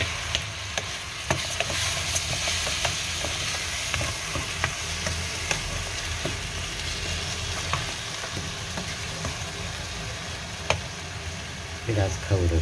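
Food sautéing steadily in a hot pan, a dense crackling hiss with occasional stirring scrapes, close and continuous.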